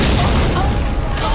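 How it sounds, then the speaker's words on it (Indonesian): A huge explosion destroys a building in an action film, a loud, dense, sustained roaring boom with heavy low rumble filling the moment. "terjadi ledakan gede yang menghancurkan gedung tersebut"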